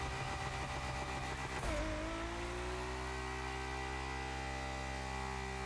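Forsberg Racing Nissan Z pro drift car in The Crew Motorfest accelerating, a loud, steady engine drone with a brief surge near the start settling into a sustained held tone, with no voices over it.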